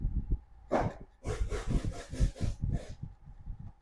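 A tool scrapes dark burnt spots off the circuit board traces of an LG 60PS40FR plasma TV, making a series of short, close rasping strokes in uneven rhythm.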